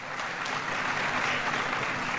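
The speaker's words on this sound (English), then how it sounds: "Shall we applaud?" Sustained applause from an assembled audience of regional chiefs at a formal gathering, a dense, even clatter of clapping hands lasting the whole stretch with no voices on top.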